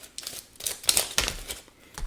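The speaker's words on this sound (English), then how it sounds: "So, let's shuffle on." Cards being shuffled during a card reading: a few quick papery riffles and crisp slaps in separate bursts, close and fairly loud, with brief pauses between them.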